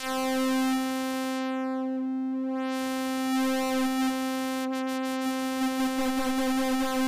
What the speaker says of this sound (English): What this synth can do is it can morph between the different wave shapes like this.